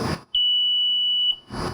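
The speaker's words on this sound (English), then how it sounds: "So I think we can mimic this here just strictly by hitting the test button." A fire alarm panel, set off with its test button, gives one steady high-pitched electronic tone lasting about a second, loud and close, between short stretches of background noise.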